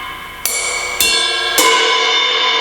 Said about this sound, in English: you can hit the very edge of the cymbal as well and play a different sound